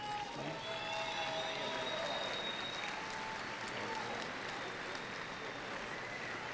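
A crowd at a 2017 university commencement ceremony gives a round of applause: steady, sustained clapping from many people that stays level throughout, with faint cheering threaded through it.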